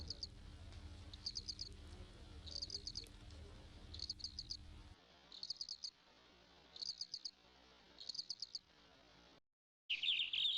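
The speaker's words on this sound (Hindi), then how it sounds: "चिड़ियों की चहचहाट के साथ ही मधुर कलरव के साथ ही पक्षी अपने भोजन की तलाश में निकल पड़ते हैं।" Birds chirping at dawn in a natural setting, with high, quick trills in regular bursts. The chirps are faint and distant, over a low hum that drops away partway through, followed by a short silence.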